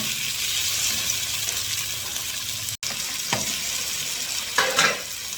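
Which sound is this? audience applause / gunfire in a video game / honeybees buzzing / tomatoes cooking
tomatoes cooking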